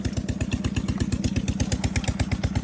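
A Peter diesel engine drives a tubewell pump on a farm field, its steady rapid thumping firing beat running close and loud throughout with a clattering mechanical edge, no voices.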